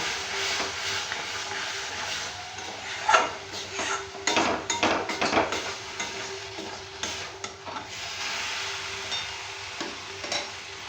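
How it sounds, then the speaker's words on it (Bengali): Ridge gourd and sesame seeds are stirred and fried in a pan, giving a steady close sizzle with scattered scraping and clinking of a spoon against the pan through the whole stretch. "এভাবে নেড়ে চেড়ে নেড়ে চেড়ে"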